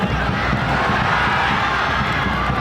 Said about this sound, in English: And now you can hear the crowd